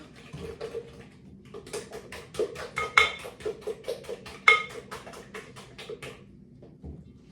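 Dishes and utensils being put away while baking chocolate muffins: a dense run of close, clattering clinks and knocks, one after another over several seconds, loud and busy, then tapering off, with no talk.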